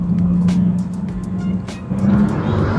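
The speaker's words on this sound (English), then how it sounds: "Let you guys hear the V6 sound." Stock twin-turbo V6 of a Maserati MC20, unmodified exhaust, idles with a steady low droning hum, loud and close, with a few light clicks and a slight swell near the end.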